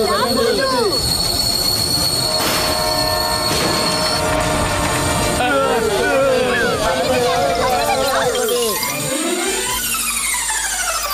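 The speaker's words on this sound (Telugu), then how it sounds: "ట్రైన్ ఆగిపోయింది" A cartoon train brakes hard to a stop, long metallic wheel squeals and screeches sweeping over heavy rumbling rail noise, loud and sustained before dying down, with voices talking over it.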